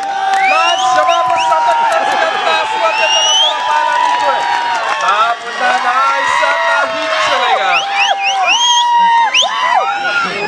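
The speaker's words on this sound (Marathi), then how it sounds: "जोरदार टाळ्या झाल्या पाहिजे दोन्ही संघांसाठी" Crowd at a tied kabaddi semi-final between Simamata Saldure and Khemraj Harne, cheering and applauding: a continuous loud roar laced with shrill whistles and whoops, with a voice talking over it.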